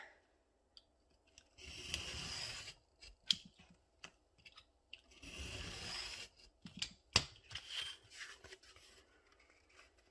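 Scissors cutting paper for a papercraft window box, with crisp snipping strokes in short bursts and scattered clicks, close and fairly quiet, with no talking.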